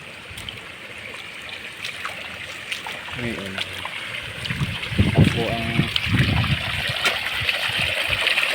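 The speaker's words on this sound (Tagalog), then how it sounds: "Maganda po't malakas ang patubig" Irrigation water flows strongly through a channel beside rice paddies with a steady rushing and trickling wash. Someone talks over it now and then, and the water grows slightly louder toward the end.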